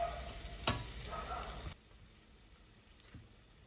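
Tomato frying with onion masala in a pan for a semi-dry prawn dish, a soft sizzle with a sharp tap of a utensil early on, then the sound drops to a quieter low hiss with one more faint clink.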